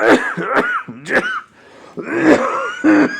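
A person coughs and clears their throat repeatedly, a series of harsh, close bursts with a short pause in the middle.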